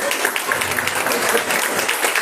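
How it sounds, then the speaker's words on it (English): An audience at a Tai Chi presentation during a martial arts conference claps in a steady, dense wash of applause, moderately loud and close throughout the short burst. "Give him a round of applause."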